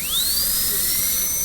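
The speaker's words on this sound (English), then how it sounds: "drill a hole where we want the axial wall, and then cut away from the facial wall toward your eye" High-pitched dental drill burr whining steadily while cutting a molar preparation, its tone rising at the start and then holding loud and close throughout, with no talking.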